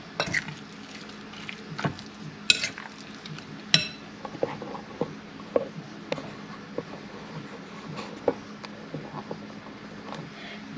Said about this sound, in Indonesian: Kita aduk sampai rata semuanya.